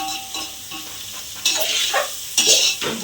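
Tomato rice in a pan is stirred after salt goes in, giving a few scraping, sizzling sweeps that swell into two louder bursts near the end, close up with no talk.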